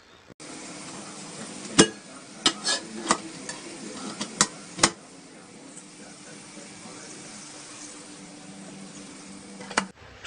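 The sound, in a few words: vegetables and chopped tomato frying in a pan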